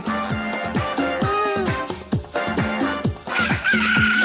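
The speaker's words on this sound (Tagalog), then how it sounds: "Nakawala ang manok." Loose chickens clucking and squawking in rapid, agitated bursts, close by, with music playing underneath.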